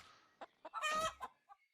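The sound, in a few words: chickens clucking in the video game RuneScape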